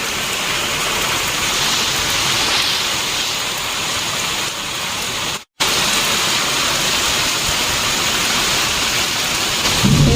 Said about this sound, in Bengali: বিদ্যুৎ চমকাচ্ছে ভালোই এবার জোরে বৃষ্টি পড়ছে